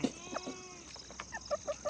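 Hens cluck softly in short, scattered calls while crowding into a basket, the clucks coming quicker and a little louder toward the end.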